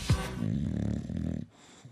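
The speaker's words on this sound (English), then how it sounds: "Guy snoring." A man snores with a deep, rattling, growl-like rasp, one loud drawn-out breath that cuts off into quiet, close to the listener.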